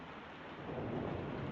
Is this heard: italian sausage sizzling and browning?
no